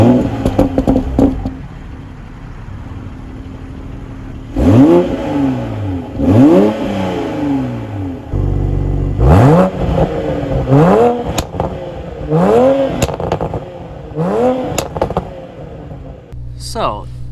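A 2020 Toyota Supra cranks and fires up, then its engine is blipped repeatedly, sharp rising revs falling back to idle in a rhythmic series, loud and close with a brief engine chime near the end.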